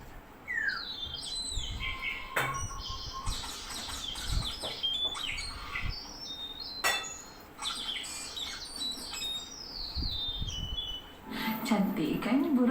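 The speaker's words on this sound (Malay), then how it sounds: "Cantik kan burung nuri ini?" Lories (nuri parrots) calling, a series of sharp chirps and squawks scattered over several seconds with faint background noise.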